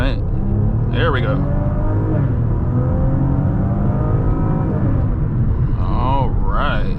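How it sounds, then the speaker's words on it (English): A 2015 Maserati Ghibli accelerating hard with a downshift, its engine note rising and climbing through the revs, heard loud from inside the cabin as the car passes. "I'm going to go ahead and mash on the gas and downshift and pass."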